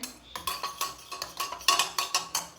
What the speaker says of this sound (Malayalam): ഇതിലേക്ക് നമുക്ക് 1 സ്പൂൺ കോൺഫ്ലവർ ഇട്ട് കലക്കി കൊടുക്കേ